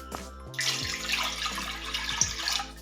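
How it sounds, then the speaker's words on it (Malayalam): Water pours steadily into a pot with a bright splashing rush, starting abruptly and continuing for a couple of seconds, close by. "ഇതിലോട്ട് ഈ കപ്പിൽ നിന്ന് തന്നെ 2 കപ്പ് അളവിൽ വെള്ളം ഒഴിച്ചു കൊടുക്കാം"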